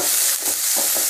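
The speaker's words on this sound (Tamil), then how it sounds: "அடுத்து வந்து நறுக்கி வச்ச வெங்காயம் சேர்த்துக்கலாம்." Chopped onion and garlic sizzle in hot oil in a kadai while being stirred, a steady close-up frying hiss with brief scraping strokes and no talking.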